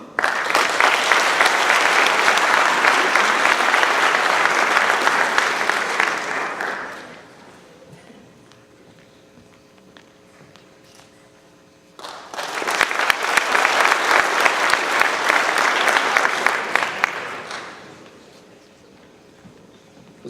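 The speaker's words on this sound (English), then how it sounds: "Let's have another round of applause for our academic awardees." At an 8th grade elevation ceremony for cadets, an audience applauds academic awardees in two loud bursts, each about six seconds long, separated by a quieter stretch of room noise.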